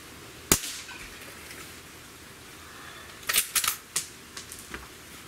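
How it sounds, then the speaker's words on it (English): A Umarex Legends CO2 .177 cowboy air rifle fires BBs at a target about 20 yards away: one sharp crack near the start, then a cluster of quick snapping shots and clicks later on, with no talking. "I'm shooting almost 20 yards away"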